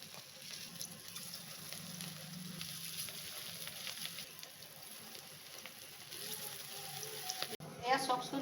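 Bora fritters fry in a little oil over a gas flame, giving a faint, steady sizzle throughout with a brief louder clatter near the end.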